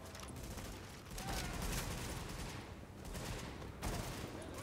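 Sustained gunfire in the video game The Division, dense overlapping bursts of shots rolling continuously at moderate loudness with no clear gaps.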